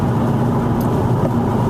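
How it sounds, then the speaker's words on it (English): Steady broadband road rumble fills the cabin of a moving car, a constant low drone with tyre and engine noise and no clear events, loud and unbroken throughout. "So, despite the noise in the car."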